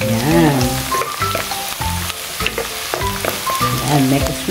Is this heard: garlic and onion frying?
yes